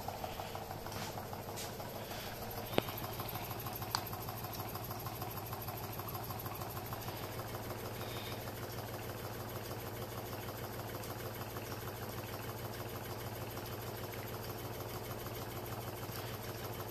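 A gamma-configuration Stirling engine drives a generator while charging, giving a quiet, even, rapid mechanical ticking and hum that stays steady throughout, with a couple of faint sharp clicks near the start.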